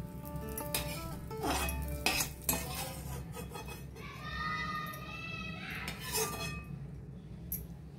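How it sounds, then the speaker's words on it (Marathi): Raisins roasting in ghee in a pan, heard as soft scraping and stirring with metal utensil clinks and knocks against the pan over a low hiss, with a few brighter ringing taps midway. "त्याच्यातच थोडे बेदाणे पण मी परतून घेते।"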